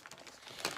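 A super sized plastic bag holding cross-stitch fabric crinkles softly at close range, a short burst of rustling that swells toward the end.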